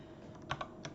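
Typing on a computer keyboard, a few quick, quiet keystrokes clicking close by over faint background hiss.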